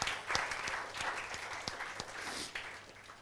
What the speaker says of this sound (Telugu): చప్పట్లు కొట్టండి రా, చప్పట్లు కొట్టండి